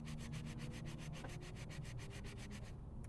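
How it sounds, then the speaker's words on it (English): Steel wool rubs over a 12-volt automotive electric motor part, such as a wiper, blower fan or power window motor, in a fast, even back-and-forth scrubbing rhythm, close and soft, stopping near the end. "Steel wool is just very mild on it, and almost polishes it more than sands it."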